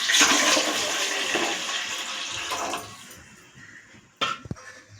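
Water pours briskly into a dish set on a gas stove while rice is being cooked for a ripe mango kheer. A loud rush of water fades out, then a few sharp clinks of the vessel follow.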